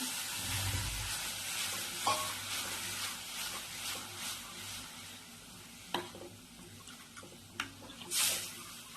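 Curd and batter stirred in a pan over a gas flame, a soft continuous bubbling hiss with spoon scrapes and a few louder clinks, quiet and close.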